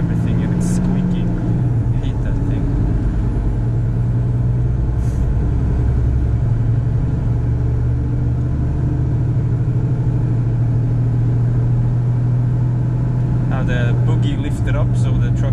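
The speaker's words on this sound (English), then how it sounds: "you can listen to the beautiful engine truck sound of this thing" A Scania G440 truck pulling a trailer climbs a hill, its engine giving a steady, loud low rumble and drone heard from inside the cab throughout, with no one speaking.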